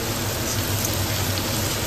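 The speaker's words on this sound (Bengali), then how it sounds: "একদম ধুমা বৃষ্টি যাকে বলে সেই লেভেলের বৃষ্টি নেমেছে, দেখছো?" A dense, steady hiss of heavy rainfall, constant and even with no pauses, filling the whole moment without any voices.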